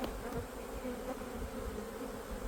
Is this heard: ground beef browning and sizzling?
no